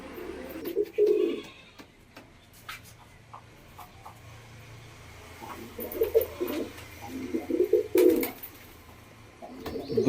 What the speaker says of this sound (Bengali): ঠিক আছে, দেখে নিন, সুন্দর কোয়ালিটির পায়রা